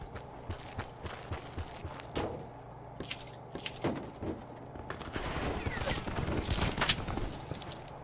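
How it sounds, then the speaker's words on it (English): Rapid bursts of gunfire in the Call of Duty Black Ops 4 Blackout battle royale, a run of sharp repeated shots, some close and loud and others farther off, thickening into a dense volley toward the end. "I'm getting shot at."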